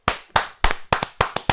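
Hands clap in six separate sharp bursts at an even, steady rhythm, some with a quick double strike, loud and close with no talking.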